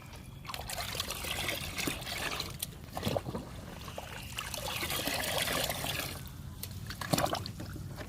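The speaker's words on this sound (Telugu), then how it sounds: "ఇప్పుడు కలుపుకుందాము. లిక్విడ్ బాగా కలవాలి." Liquid plant fertilizer made from two powders is mixed by hand, giving a soft, continuous trickling and sloshing of water, quiet and close with no talking.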